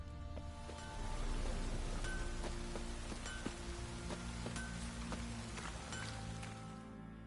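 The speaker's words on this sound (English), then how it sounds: "Midges were biting on account of this downpour." Heavy downpour in The Witcher 3 hisses as a steady, dense wash of rain with scattered drop ticks and a low ambient rumble underneath, continuous and moderately loud for the whole stretch, no voices.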